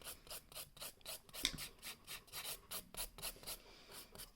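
A nail file rasps across an acrylic nail with a marble foil design in quick, light back-and-forth strokes, faint and close, with one sharper scratch midway.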